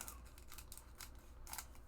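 Scissors snip open a Garbage Pail Kids Chrome trading card pack, a few quiet, crisp cutting strokes in a row, close but faint, with no talking.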